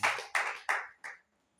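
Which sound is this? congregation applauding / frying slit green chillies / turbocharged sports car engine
congregation applauding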